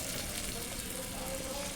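Meat pieces with spices fry in a pan, a steady, soft sizzle running through the brief moment as they are stirred.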